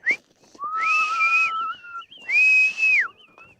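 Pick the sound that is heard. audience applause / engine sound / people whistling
people whistling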